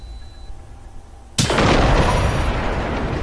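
A car blows up in the video game Generation Zero: a sudden loud blast hits after quiet ambient game sound, then a dense roaring wash of debris and fire keeps going, close and loud, with no talking.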